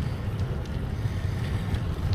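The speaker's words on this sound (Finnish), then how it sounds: "koska täällä tuulee" Wind rushing past the microphone during a bicycle ride on a Hanko–Helsinki bikepacking trip, a steady low rumble and buffeting that runs the whole time with no voices.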